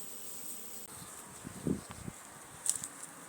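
Honeybees in a BS Honeybees poly nuc hive holding a split, giving a faint, steady buzz with a few brief louder hums close by.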